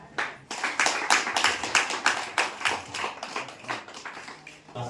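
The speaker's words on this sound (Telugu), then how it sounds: "అందరూ దయచేసి క్లాప్స్ కొడదాం." A small church congregation claps in unison after a prayer, a steady rhythmic run of sharp hand claps at close range, about three per second, with no talking over it.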